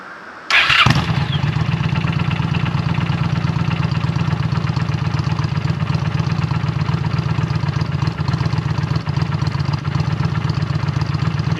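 A Honda Shadow Spirit 750 V-twin motorcycle with a Cobra aftermarket exhaust cranks and catches, then settles into a loud, steady, throaty idle that continues without a break.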